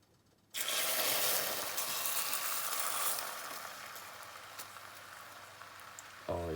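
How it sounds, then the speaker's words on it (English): A mixture poured into a hot pan over medium heat sizzles loudly and suddenly, then slowly fades to a softer crackle, with a brief clatter at the end. "Oh yeah, hear that sizzle right there."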